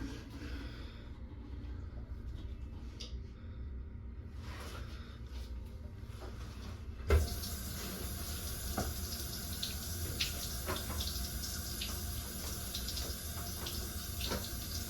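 Water runs steadily through a drain pipe from a restroom sink in a store, a continuous rushing wash with one sharp knock partway through, fuller and brighter in the second half.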